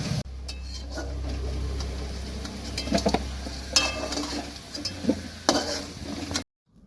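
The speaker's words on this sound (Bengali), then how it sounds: "এবারে মাসি ফোড়ন হিসাবে কড়াইয়ের মধ্যে ঢেলে দিলেন জিরে, গোটা জিরে, তেজপাতা এবং শুকনো লঙ্কা" Whole cumin, bay leaves and dried red chillies are tipped into a hot wok as a tempering, giving a steady sizzle with a few spoon scrapes and metal clinks, close and moderately loud, with no talking.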